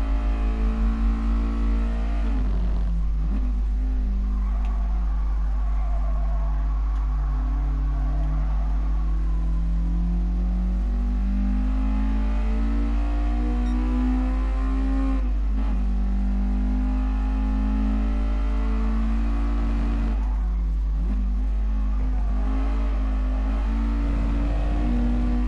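A car engine in the GT Sport racing game pulls through a long fourth gear on a stock gearbox, with a steady droning tone that climbs and dips in repeated sweeps, loud and alone.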